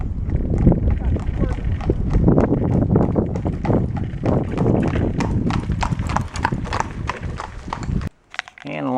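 Horse hooves clip-clop steadily along a road as a carriage passes in Killarney National Park, Ireland, a loud close rhythmic trotting with faint talk underneath, ending abruptly.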